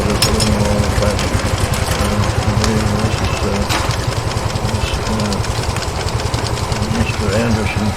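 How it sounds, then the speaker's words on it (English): A Case portable steam engine, one of the later models, runs at an outdoor Case expo at Rollag, its steady mechanical chugging and knocking loud and continuous throughout, with voices and crowd noise mixed in. "you see a Case portable engine here"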